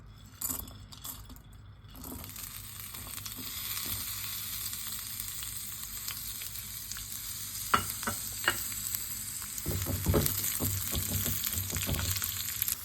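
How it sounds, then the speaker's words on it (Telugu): Dry fruits frying and being stirred in a pot of hot dalda for sheer khurma, a steady soft sizzle with scattered clinks of a spoon against the pan, the scraping growing busier near the end. "డ్రై ఫ్రూట్స్ వేయించుకోవాలి."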